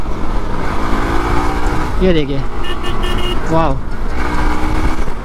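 A 2023 Hero Xpulse 200 4V motorcycle engine blips its throttle twice in quick rising revs during a ride, heard close beneath steady wind and road rumble while a rider speaks briefly.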